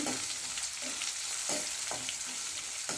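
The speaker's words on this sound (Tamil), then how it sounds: "சாம்பார் வெங்காயம் ஒரு கைப்பிடி சாம்பார் வெங்காயம் வச்சுருக்கேன் அதை நம்ம அதில் சேர்த்துவோம்" Handful of small sambar onions frying in hot oil for Chettinad-style bitter gourd kara kuzhambu, a steady close sizzle broken by a few soft stirring scrapes, with no talk.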